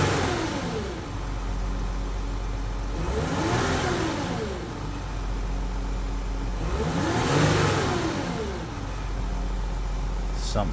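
Audi car with a DPF fault (code P0471) revved twice in long sweeps, the engine climbing and falling each time over a steady idle, loud and close.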